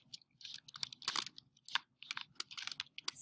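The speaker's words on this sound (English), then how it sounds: "I'm just typing quickly here" Rapid keyboard typing, bursts of crisp key clicks with short pauses between, close and fairly quiet, no talking.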